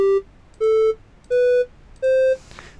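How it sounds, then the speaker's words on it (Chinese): A Micro:bit virtual piano plays a simple melody of four clear electronic beep tones, each held about a third of a second, stepping upward with short gaps between them, loud and alone. "这边会出现一个虚拟的钢琴，那你可以演奏，看你是要用什么音"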